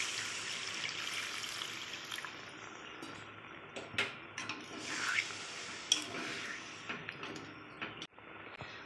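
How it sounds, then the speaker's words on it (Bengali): Water poured into a pan of Bengali egg and potato curry, a steady rubbing, trickling wash with a few splashy bumps, close and moderately quiet. "আর পরিমাণ মতন এবার আমি জল দেব।"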